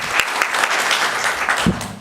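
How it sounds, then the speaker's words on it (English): An audience applauds the teachers of the year at a school board business meeting, a steady roomful of clapping hands with scattered sharper claps standing out, sustained for a couple of seconds. "give them a round of applause"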